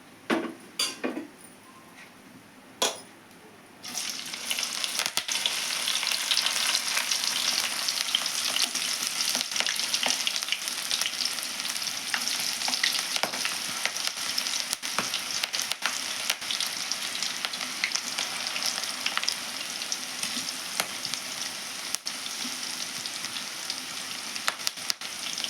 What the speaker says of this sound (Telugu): ఇంకా అన్నీ ఫ్రై చేసేసుకుందాము ఈ విధంగానే